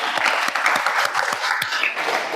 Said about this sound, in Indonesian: tepuk tangan buat kakaknya dulu.